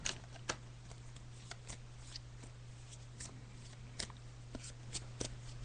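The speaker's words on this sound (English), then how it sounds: "I'm just shuffling the cards." Tarot cards being shuffled by hand, a series of soft riffling snaps and flicks at irregular intervals over a steady low hum, close and fairly quiet, with no talking.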